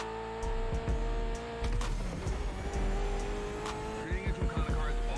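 A car engine in the racing video game The Crew Motorfest revs and roars with tire squeal and skidding, loud and continuous with sharp bursts throughout.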